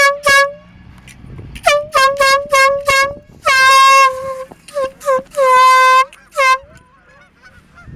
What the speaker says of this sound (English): Air horn, these geese make a frickin' mess